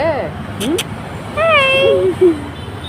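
A street cat meows several times up close, each call a short wavering cry, with a faint hum of traffic in the background.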